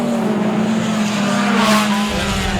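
Hot rod race cars roaring around an oval track on the final lap at a night racing event, a loud continuous engine drone with a brief swell as cars pass close.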